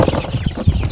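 Clucking and soft chirps from young Aseel chickens, about two months old, close and busy with overlapping short calls.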